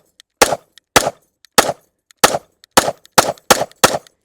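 Eight sharp gunshots from a Sig M18X pistol are fired at a steady, unhurried pace, each a loud close crack with a short tail, separated by brief silences.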